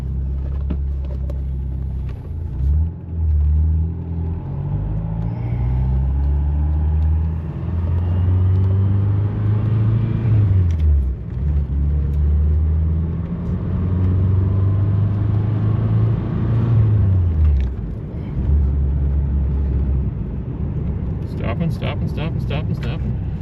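A rare old sports car, left parked for 35 years, is driven with a constant loud low engine drone. The drone rises and drops with repeated shifts in pitch as it accelerates and slows, and a few faint clicks sound near the end.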